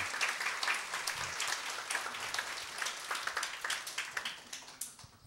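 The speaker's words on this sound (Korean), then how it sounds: "박수 한번 쳐줘요." A church congregation at a Korean church service breaks into steady, dense applause. The clapping is moderately distant and keeps going for several seconds before it thins out slightly at the end.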